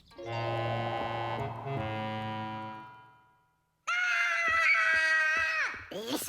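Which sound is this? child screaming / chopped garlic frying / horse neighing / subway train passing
child screaming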